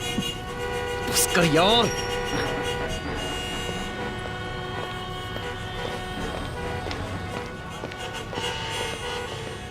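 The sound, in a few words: car horn honking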